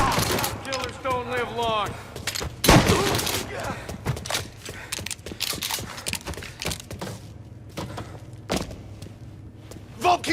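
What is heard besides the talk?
gunfire in the video game Mafia Definitive Edition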